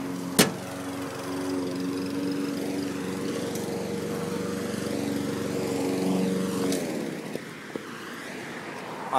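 A lawn mower drones steadily and fairly loud for most of the stretch, its engine tone holding even before changing and easing off near the end, with a couple of sharp clicks and knocks along the way.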